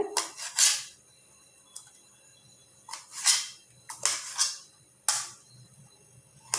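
Knife chopping small turkey berries (sundakkai) into fine pieces on a board, producing sharp, isolated clicks and taps in irregular pairs and singles, close and fairly crisp, with no talk.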